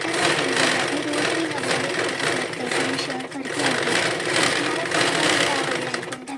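A sewing machine runs steadily, stitching lace onto a saree at home, its fast mechanical whir continuing close and loud without pause.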